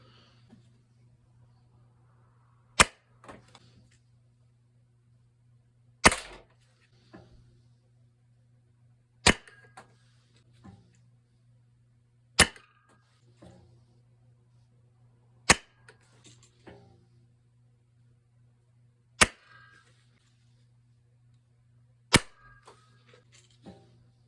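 Toy blaster firing N-Strike Elite foam darts through a 6-inch barrel: seven sharp, isolated snaps spaced a few seconds apart over a low steady hum, with faint mechanical clicks between shots.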